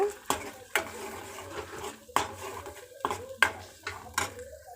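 A spoon stirring ground masala paste into sautéed shallots in a pan for a soy-chunk fish-style curry, giving several distinct clanks and scrapes against the metal at an uneven pace, with someone talking over them.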